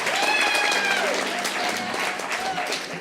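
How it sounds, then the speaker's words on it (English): An audience at a poetry jam session claps and cheers in a loud, continuous wave of applause, with some whoops and voices mixed into the crowd noise. "can we get Jada one more round of applause?"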